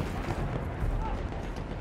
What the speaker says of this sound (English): I can hear gunfire from over this way,